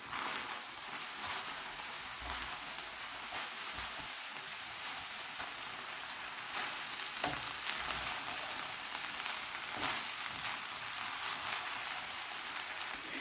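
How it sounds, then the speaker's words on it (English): Samosa filling of spring onion, green chilies and coriander cooking in a pan, a steady broadband sizzle and crackle running close and even throughout, with no talking. "allow this to cook for 6 minutes, mixing every 2 minutes interval"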